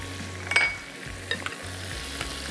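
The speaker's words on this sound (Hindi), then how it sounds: "यहाँ पे चिकन जो है ना अच्छे से हमारा हो गया फ्राई।" Chicken frying in a pan, a steady close sizzle with a few stirring scrapes and clinks over it, no voices.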